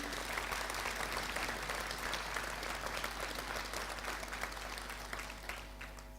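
A concert audience applauds a brass band in a steady, dense wash of clapping that holds for several seconds and then begins to taper off, with no voices.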